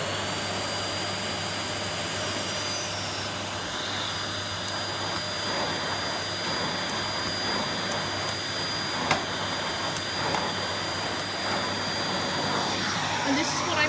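A Vax Air Stretch Pet bagless cylinder vacuum cleaner runs steadily throughout, a constant close, moderately loud motor whine and airflow roar with faint shifts as the nozzle moves.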